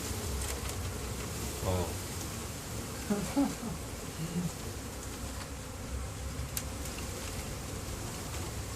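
Honeybees buzz in a steady, dense drone close by after being shaken out into their new hive, with a brief exclaiming voice partway through.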